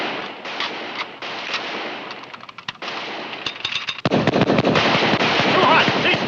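A Gatling gun fires in long rapid bursts of sharp cracks, getting louder and denser toward the end, mixed with shouting voices and scattered gunfire in a Western battle scene.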